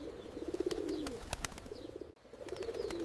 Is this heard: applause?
no